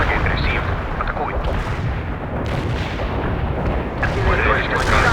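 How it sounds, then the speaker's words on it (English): A heavy artillery barrage rumbles through the Soviet assault campaign of the video game World in Conflict, with loud, continuous overlapping booms and blasts rolling on without a break. "We can deploy and lay down a heavy barrage."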